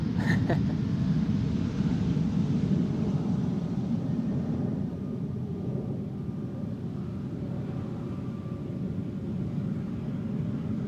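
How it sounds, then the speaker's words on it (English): An Embraer 190 airliner arriving at Amsterdam Schiphol airport, a broad, steady jet rumble with a roaring low hum, distant and even, fading slightly over time, with no voices. "Embraer 190 having arrived from Bergen"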